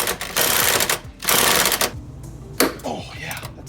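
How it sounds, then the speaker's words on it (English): Impact wrench on a 1990 Nissan 300ZX loosening bolts in loud bursts, three rattling hammering runs of around half a second each, close by, with brief pauses and clanks between them. "I'm just trying to back these off with the impact because it'll be way easier than using a wrench"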